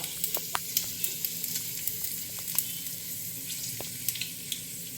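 Hot oil sizzles continuously with scattered sharp pops and crackles of mustard seeds spluttering in a pan before chillies go in, fairly close and without talking.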